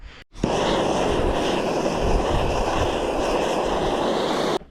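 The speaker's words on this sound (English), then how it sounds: "Now I'm going to hit it with the torch one last time." A torch flame roars steadily against a copper spoon during annealing, starting abruptly after a brief pause and holding a loud, even hiss for over four seconds before cutting off.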